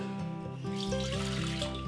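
Water pours steadily into a Thermomix bowl, a continuous splashing stream with a ringing, resonant tone, close up and fairly loud.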